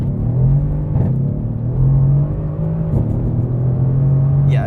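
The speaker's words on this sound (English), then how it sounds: "I'll do the acceleration test one more time because I screwed up the first time" A 2015 Mercedes-Benz AMG C63S pulls hard from inside the cabin, a loud, steady engine drone rising through gear changes with brief dips between pulls and no talking.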